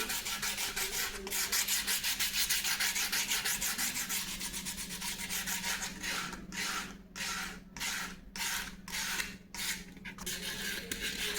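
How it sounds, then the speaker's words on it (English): A balsa wood model surface being sanded by hand with rapid, rhythmic scratchy rubbing strokes, steady at first then breaking into distinct short passes, close and moderately quiet with no talking. "Sand the surface till you find it smoother."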